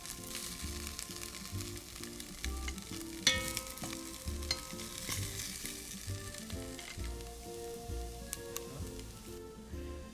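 Beef filet pieces sizzling and browning in a nonstick frying pan, a steady dense crackle of frying fat with occasional stirring scrapes, close and fairly loud, no voices.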